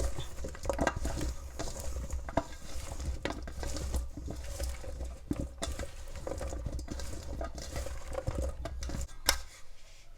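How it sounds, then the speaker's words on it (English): Vegetables with black pepper and seasoning are mixed in a bowl for a pot roast, giving continuous close rustling, tapping and stirring scrapes throughout with no talk. "we're going to mix this up once again"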